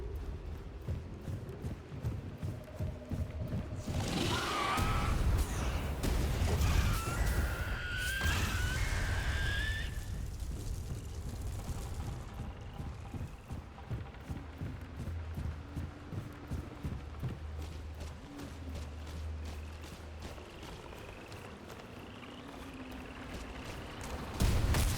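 Explosion in the Remnant 2 video game, a deep booming blast with a rumbling roar that swells and fades over several seconds amid rhythmic clattering game sounds, fairly quiet overall.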